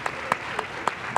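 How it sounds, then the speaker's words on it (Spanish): Book-fair audience applauding an author, steady close clapping throughout with a few sharper claps standing out. "Un aplauso para Sofía, por favor."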